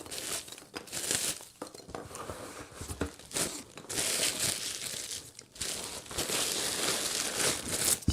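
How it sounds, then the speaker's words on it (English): Black plastic packaging around hip pads and a breastplate being unwrapped, with loud, close crinkling and tearing that runs nearly continuously in bursts. "So let's unwrap the black plastic first."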